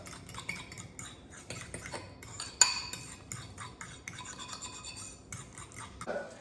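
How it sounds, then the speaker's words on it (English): Eggs, cheese and black pepper whisked for pasta carbonara, a quick, irregular scraping and clinking of a whisk against a bowl, close and fairly quiet, with one sharper knock. "Whisk that up."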